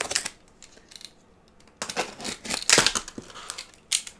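Scissors or a blade cut through packaging strap and corner protectors on a boxed resin statue, giving close, irregular bursts of snipping, crinkling and rustling with short pauses.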